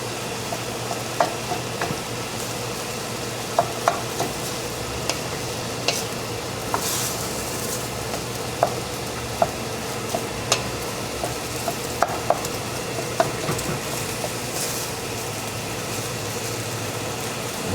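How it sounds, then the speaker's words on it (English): Onions and garlic frying in a hot pan for weeknight chili, giving a continuous sizzle with intermittent clicks and taps from stirring spread across the whole stretch, no talking. "going to add in our onions and garlic over here. And I'm going to stir this up."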